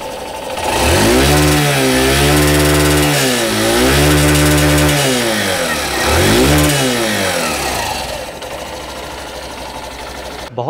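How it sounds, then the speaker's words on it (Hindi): A 2023 Hero Super Splendor motorcycle engine idling and blipping, with a throaty single-cylinder exhaust note that rises and falls in three revs before settling back to idle, close and loud. "अब आप इस बाइक के इंजन का साउंड सुनिए और इसका एग्जॉस्ट नोट भी सुनिए।"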